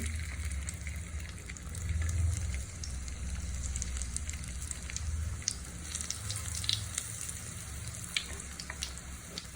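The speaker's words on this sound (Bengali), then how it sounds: "এখন হচ্ছে আমি তেলে ভেজে নিচ্ছি। আমি হচ্ছে এখন ডুবো তেলে দিয়ে দিচ্ছি।" Chicken lollipops deep-fry in a pan of hot oil, giving a continuous crackling sizzle with scattered sharp pops over a low steady bubbling, close and moderately quiet, with no voices.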